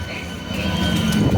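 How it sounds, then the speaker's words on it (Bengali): A train stands at a station platform, giving a steady, close low rumble with faint hiss that builds slightly toward the end. "এই যে ট্রেন, আর এই যে ছেলে, এই যে মেয়ে। চলো এবার ট্রেনে ওঠা যাক আমাদের।"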